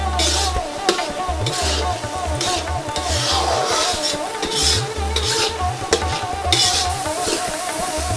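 Spice paste with ground cumin stir-fried in hot oil for broiler chicken bhuna, a spoon scraping the pan in steady rhythmic strokes over a continuous close sizzle.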